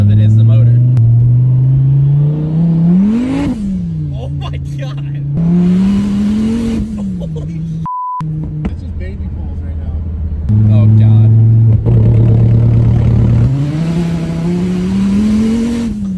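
A lifted Ford F350 truck with an 8.4 liter engine revs repeatedly, the deep engine note rising and falling in loud surges over about sixteen seconds with a brief beep midway, and people talk over it.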